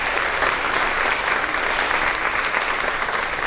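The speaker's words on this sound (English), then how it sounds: "So another round of applause for our newspaper staff." Sustained applause from an audience at a fifth grade promotion ceremony for the school newspaper staff, a dense, steady wash of many hands clapping at moderate loudness with no talk.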